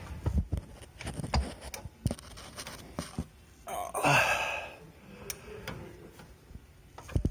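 BMW E84 X1 engine turned over slowly by hand during belt removal, giving sparse, irregular ticks and clicks close up, with breathy sighs and a brief scraping rustle partway through.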